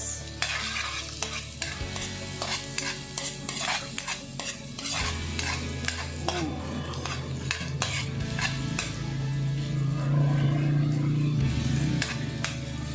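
Onion sautés in a pan while buttered crabs are cooked, a loud steady sizzle with frequent spoon-against-pan scrapes and clinks, the frying swelling toward the end.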